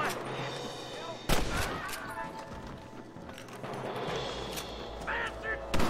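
Gunshots ring out in a Red Dead Redemption game: sharp, loud cracks at about one and a half seconds and near the end, with game sounds and some talk between them.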